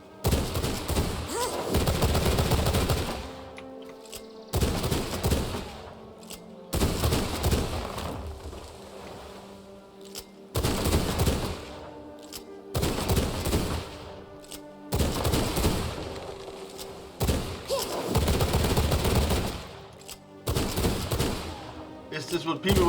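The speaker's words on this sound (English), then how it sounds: "I'll be doing cleaning work of some branches with a gun." Repeated loud bursts of gunfire in V Rising shooting down branches, several sustained volleys separated by short pauses, with a voice speaking between them.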